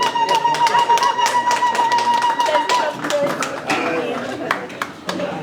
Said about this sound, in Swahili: tupige makofi vizuri kwa kazi nzuri hii inaendelea